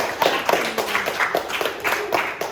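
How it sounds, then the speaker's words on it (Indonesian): A small group claps in quick, uneven bursts for a couple of seconds, close by and fairly loud. "Tepuk tangan untuk kelompok"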